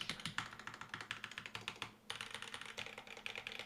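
Rapid, steady typing on an aluminum top-mount Monstargears Classic TKL fitted with Oolong switches and GMK Birch keycaps, a dense run of close clacky keystrokes with a brief pause midway before the flurry resumes.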